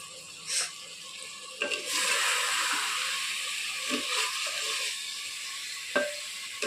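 Two spoons of ginger garlic paste sizzle steadily in a hot pan for chicken, a continuous close hiss with a few soft clicks of utensils.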